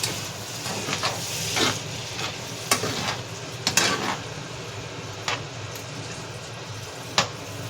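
Shrimp sautéing in butter and garlic gives a steady, close sizzle, with scraping stirs and a few sharp clicks from the pan spread through it.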